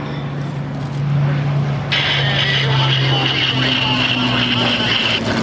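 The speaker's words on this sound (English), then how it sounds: "So we have for you now the Hawker Hurricane being followed by the P-51. Straight and level this time, the Merlin humming away" A Hawker Hurricane followed by a P-51 fly straight and level past an airshow crowd, their Merlin engines droning with a steady propeller hum that swells partway through, under an announcer's voice.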